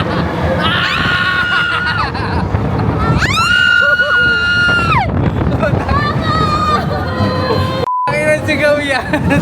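Crowd screaming at Hong Kong Disneyland: high, drawn-out shrieks and shouts rise and fall over loud, close crowd babble and steady rumble.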